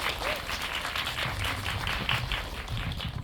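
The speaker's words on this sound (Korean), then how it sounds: "저희 박수 한번 부탁드리겠습니다" Audience at a film festival community event claps steadily, a dense, fairly close patter of many hands held at an even level throughout.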